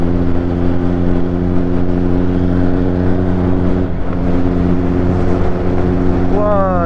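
A Kawasaki inline-four superbike engine hums loud and steady at close range, holding an even drone throughout without any voices over it.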